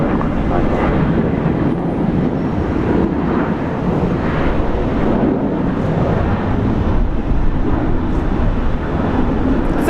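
Loud, continuous low roar from a Qantas airliner landing at Brisbane International Airport, dense rumble with wind buffeting on the microphone, steady and heavy for the full stretch.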